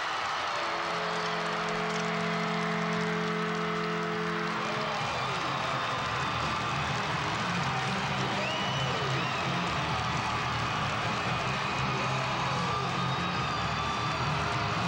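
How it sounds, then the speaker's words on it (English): A high school hockey crowd at the Pru Center roaring after Middletown North wins the 2015 Public B final, a broad wash of cheering and clapping, fairly distant, with a sustained horn-like tone early on. "The crowd goes crazy."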